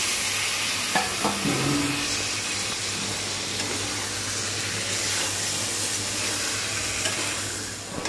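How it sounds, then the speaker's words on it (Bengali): Half-boiled potatoes with spices sauté in a pan with a splash of water, giving a continuous close sizzle and steamy hiss, with a few utensil scrapes near the start. "এখানে মাঝে মাঝে অল্প জল দিয়ে আলুগুলোকে খুব ভালোভাবে কষিয়ে নিচ্ছি"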